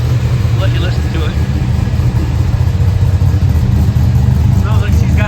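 A 1955 Chevrolet resto mod idles steadily up close, its engine a low, even rumble for several seconds with faint voices in the background.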